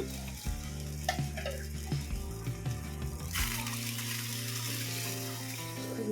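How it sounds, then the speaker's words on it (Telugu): Water splashes into a hot pan of bottle gourd and lentil khichdi, setting off a sudden loud hiss and bubbling sizzle after some clinking and stirring. "నేను వాటర్ వేస్తున్నాను."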